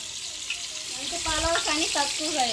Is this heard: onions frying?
yes